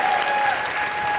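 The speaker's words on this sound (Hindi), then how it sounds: "जोरदार तालियां हो जाएंगी।" A loud, dense roar of studio audience applause fills a live comedy show, continuous and unbroken from start to finish, with a faint tonal hum beneath it.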